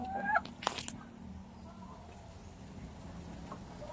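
A backyard chicken near a nest of fresh eggs gives a couple of brief, close clucks right at the start, followed by a quiet stretch with only faint background noise.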